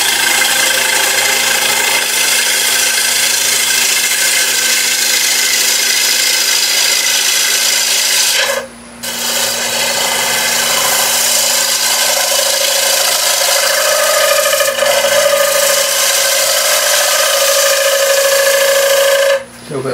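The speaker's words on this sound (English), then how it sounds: "Let me show you what happens when you get a bit of vibration. You get chatter." Wood turning on a lathe with a quarter-inch bowl gouge, its tool chattering against the spinning wood from vibration: a continuous loud scraping, buzzing rasp that runs almost the whole time, with two brief breaks.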